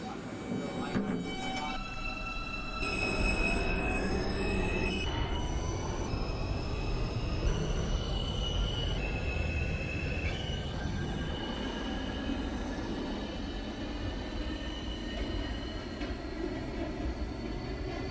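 An R160B subway train runs through a simulated New York R line in the OpenBVE rail simulator, giving a steady rumble of wheels and motors with rising whine tones and occasional high squeals throughout.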